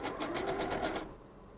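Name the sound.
sewing machine stitching a fabric mask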